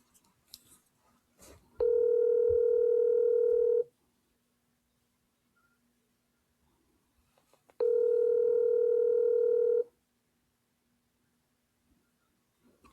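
Two long steady ringback tones of an outgoing phone call, each about two seconds, separated by a pause, clear and alone with faint background noise.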